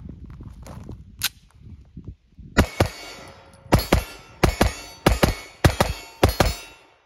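A government-length 1911 pistol fires in paired double-tap shots, with several sharp, loud reports in quick pairs ringing out, preceded by fainter clatter.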